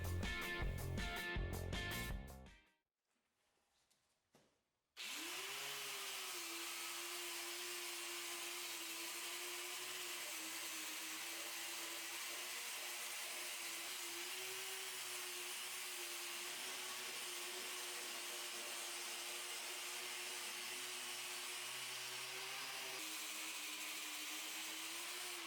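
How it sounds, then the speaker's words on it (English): A power grinder works on the frame of a Ford F250 Super Duty truck, a steady whining grind that runs continuously for about twenty seconds after a brief burst of other noise and a short quiet gap, fairly faint overall. "bust out the tools, and start grinding on the frame"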